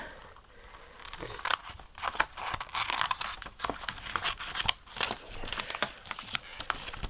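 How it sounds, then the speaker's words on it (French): Scissors snip repeatedly through paper to cut out small paper water lily shapes, close up, with irregular crisp cuts and crinkling paper rustle and no voices. "on va déjà découper nos petits nénuphars"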